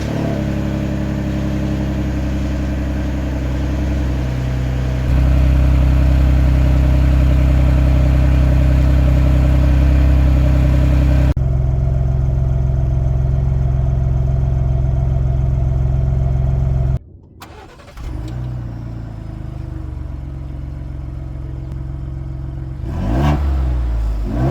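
A Ford Bronco with a 2.7-litre EcoBoost twin-turbo V6 runs with a steady, droning engine note that shifts pitch in stages, then drops abruptly and returns rougher and revving, heard close and loud without talk.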